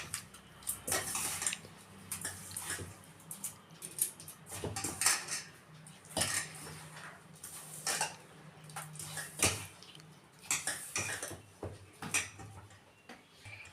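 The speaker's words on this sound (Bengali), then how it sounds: "কলাগুলোকে ভালো করে ছেনে নিতে হবে" Ripe bananas are mashed with sugar in a bowl for crispy banana pitha, giving repeated clinking and scraping of a utensil against the bowl in an irregular rhythm, close and fairly quiet, with no voices.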